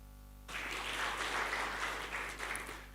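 Clapping from a conference audience bursts in after a moment of hum-filled quiet and holds steady for a couple of seconds, soft and somewhat distant, with a constant electrical hum underneath.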